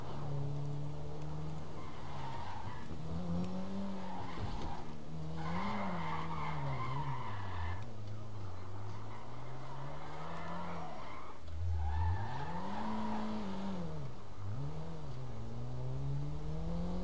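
A car in GTA V engine roars continuously, rising and falling in pitch, with repeated tire skids and squeals as it swerves. Loud and steady for the whole stretch, with no talk.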